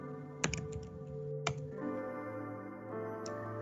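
A computer keyboard is tapped in a few sharp, separated clicks, close and crisp, over a steady low electronic hum, with short gaps between keystrokes and no talking.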